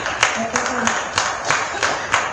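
Scattered hand claps at a village board meeting, a handful of people clapping in an uneven rhythm over about two seconds, fairly close and moderate in volume.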